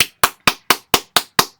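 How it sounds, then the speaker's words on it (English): Eight sharp, close hand claps land in a quick, even rhythm, each one loud and crisp with silence between them. "Let's clap it up."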